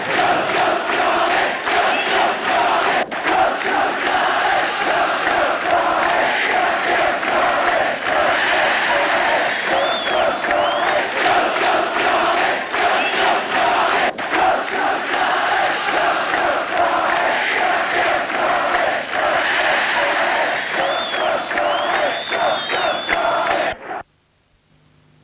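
Dense, continuous roar of a large football crowd cheering and chanting at a 1968/69 Inter-Cities Fairs Cup match involving Newcastle United, with occasional whistles, loud and sustained before cutting off abruptly.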